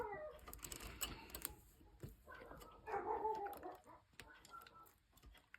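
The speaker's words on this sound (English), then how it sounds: "oh, my dogs are going nuts." Dogs bark in short, excited bursts in a home, fairly faint and somewhat distant, scattered irregularly through the clip.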